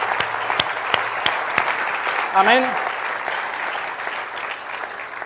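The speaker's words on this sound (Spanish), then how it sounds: "Denle un aplauso fuerte al Señor en esta mañana." A church congregation applauds loudly and steadily at a Sunday service, with a voice calling out briefly partway through.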